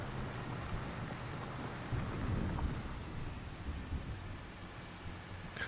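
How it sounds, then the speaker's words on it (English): Thunder rumbles and rolls beneath steady rainfall in the Scottish Highlands setting of the farming video game Farming Simulator 25, a continuous, moderately loud storm bed with a deeper swell of thunder partway through. "The rolling thunder in clouds and such is one of my favorite sounds in the entire world"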